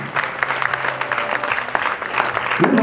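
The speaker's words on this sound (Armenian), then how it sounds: "Շատ ճիշտ է, խնդրում եմ բարձր ծափահարը պրոդուկտների" An audience claps loudly at a celebration event, a dense burst of applause from a crowd with no voices rising above it.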